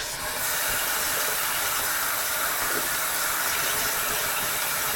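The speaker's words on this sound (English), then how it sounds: "Now I have to wash my hands." A tap runs warm to hot water for washing oily hands, a steady, fairly loud rushing hiss that holds evenly throughout with no voices.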